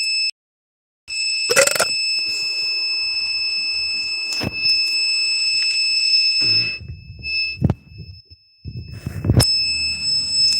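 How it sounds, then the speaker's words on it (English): A low-battery warning gives sustained high electronic tones in the background, broken by brief gaps, alongside occasional sharp clicks and bumps of handling. "that goddamn beeping in the background is driving me fucking nuts"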